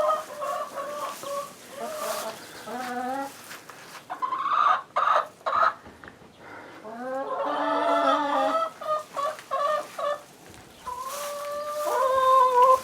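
Chickens cluck steadily inside a homestead chicken house, a small flock of about eight birds calling in overlapping bursts of close, lively clucks with brief pauses between.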